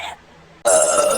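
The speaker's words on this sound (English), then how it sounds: "You can smell my burp," An animated cartoon character lets out a burp, a short, loud, throaty belch that starts suddenly after a brief quiet pause and holds steady to the end.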